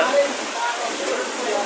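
Flood water rushing through houses in the Kibra slum during heavy rain, a steady broadband wash of moving water close by, with voices talking over it throughout.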